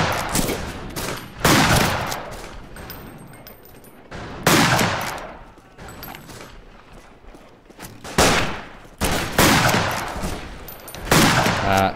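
Shots from a regular gun in the Western shooter game Fistful of Frags ring out loud and close, roughly eight sharp blasts at irregular intervals, each trailing a short echoing decay.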